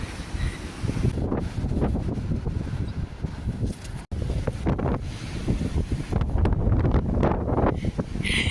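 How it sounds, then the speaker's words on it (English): Strong wind blows outdoors in stormy weather and buffets the microphone. It makes a loud, continuous, gusting roar that cuts out briefly in the middle before returning just as hard. "it's still windy and stormy and crappy"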